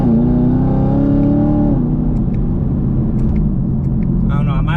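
A supercharged Chevrolet Camaro SS roars close up at wide open throttle in second gear, its engine note climbing steadily and then dropping sharply partway through, loud and continuous throughout.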